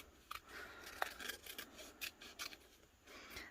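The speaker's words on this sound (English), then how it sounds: "So I'm going to trim down my decal" Scissors snip and rasp through a vinyl decal sheet for glitter craft work, a series of faint, close cuts and rubbing strokes spread irregularly over a few seconds with no talking.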